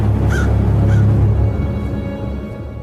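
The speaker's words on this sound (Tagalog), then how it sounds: "narinig ko ang huni ng mga uwak" Crows caw twice in quick succession over a heavy, steady low rumble, the calls faint and somewhat distant, fading out as the background drone continues alone.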